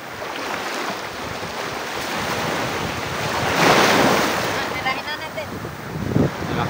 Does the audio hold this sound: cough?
no